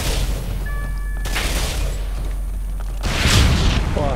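Gunfire in a multiplayer shooter match on the Attica Heights map, with dull booming shots and thuds spread across the clip, growing louder and denser near the end, with no talk over it.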